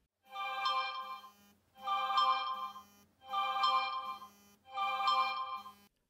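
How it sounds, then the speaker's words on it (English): An Instagram video call rings on a phone over Wi-Fi, a bright electronic ringtone sounding in four evenly spaced bursts of about a second each with short gaps between, fairly quiet and alone. "I'm testing the Wi-Fi by making a video call between 2 Instagram accounts."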